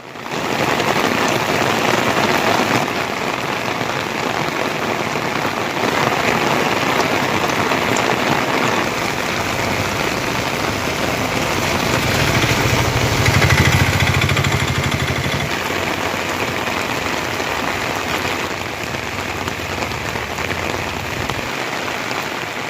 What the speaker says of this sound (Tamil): பகுதிகளில் இரவில் திடீரென கனமழை பெய்தது